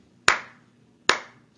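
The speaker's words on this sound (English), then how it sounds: "Clap out the syllables with me." Two crisp hand claps spaced about a second apart, each sharp with a short decaying ring in a quiet room, marking out the two syllables of a spoken word.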